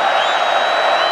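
A college football stadium crowd roars for the Arkansas defense in a steady, loud wash of cheering and shouting, with a faint thin whistle-like tone running through it.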